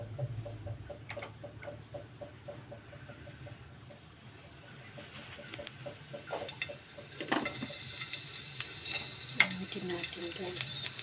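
Beef for a Filipino beef steak (bistek) frying in a pan, a soft steady sizzle with rhythmic stirring or scraping strokes, growing somewhat louder toward the end, with faint background noise.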